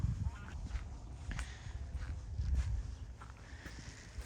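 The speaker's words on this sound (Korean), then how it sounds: "철새들이 주변에 있어서 시끌시끌하네요" Noisy migratory birds around a park honk and quack in overlapping calls at a moderate distance, under faint outdoor background noise.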